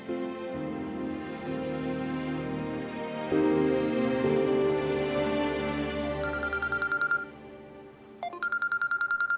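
A telephone in a Pakistani TV drama gives soft tonal beeps, then a repeating electronic ringtone near the end in short, evenly spaced bursts, with no talk over it.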